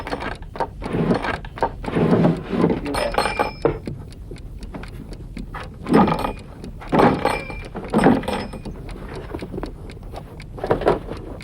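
A glass bottle is handled and put away in a drawer, giving a string of close clinks, knocks and wooden clunks spread across several seconds, with no speech.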